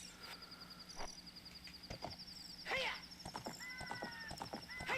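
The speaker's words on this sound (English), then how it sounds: "Wasting 10 seconds to get on the horse." Horse riding in the video game Ocarina of Time: clip-clop hoofbeats, a whinny and soft game effects run over a steady high musical tone, quiet and fairly busy throughout.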